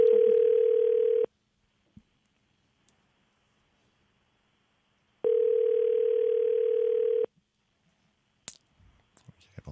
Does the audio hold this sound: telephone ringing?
yes